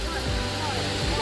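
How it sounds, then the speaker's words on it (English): Waterfall at Falls Park on the Reedy in Greenville, South Carolina, a steady broadband rush of falling water, close and continuous, with a brief low thump in the background. "Look at the waterfall."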